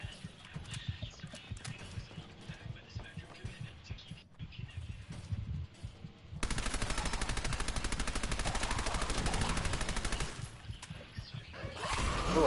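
Rapid gunfire in the video game Fallout 4, a dense burst of repeated shots running loud for several seconds midway, with softer scattered game sounds before and after.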